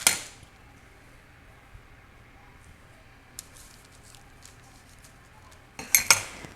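Pastry squares set into a metal muffin tin, heard as a faint clink at the start and a cluster of light metallic clatters near the end, separated by a long quiet stretch.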